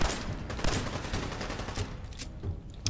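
Rapid pistol gunfire in Fallout 4 in an underground area, shots cracking again and again in a dense, steady barrage with no talking.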